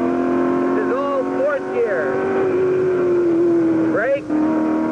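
A 1965 Can-Am race car circles the Riverside track, its engine droning at high pitch with quick rises and dips as it shifts and comes back on the power, under a steady narrating voice.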